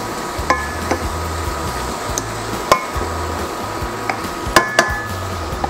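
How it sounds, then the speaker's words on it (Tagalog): Half a kilo of ground beef is stirred in a pan, a spatula clanking and scraping against the metal in irregular knocks over a low, steady sizzle. "Haluin lang natin."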